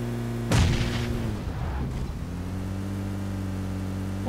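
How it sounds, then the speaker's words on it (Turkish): A single heavy bombardment explosion booms out loud and close in PUBG Mobile, its blast dying away over a second or so against a steady low game hum that continues afterward. "Bomba geldi."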